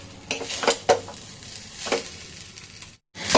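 Jeera rice cooking in a pan: a close, steady sizzle broken by several scraping stirs and light clinks of a utensil against the pan, with a brief cut to silence near the end.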